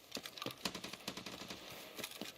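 A rapid string of sharp, crackling gunshots from a video game, popping in quick irregular bursts at moderate volume.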